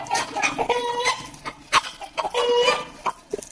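Hens cluck and squawk in repeated bursts, close by and fairly loud, with no talking.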